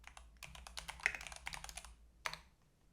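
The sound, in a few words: typing commands on a computer keyboard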